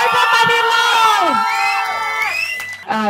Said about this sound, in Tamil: The beautiful பிரீதாவோட பெரிய கைத்தட்டலோட வெல்கம் பண்ணலாம்.